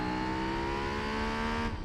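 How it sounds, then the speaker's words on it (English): A race car engine in Gran Turismo 4 held near the redline, a loud, steady high-pitched whine sustained for almost two seconds before it cuts off abruptly. "Like in some areas, I'm totally redlining this thing."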